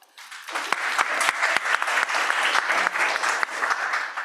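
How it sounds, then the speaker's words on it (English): An audience at a laureates' talk session claps for themselves, applause that swells quickly from silence into a dense, bright patter with a few sharper nearby claps, then holds steady. "A round of applause for yourself."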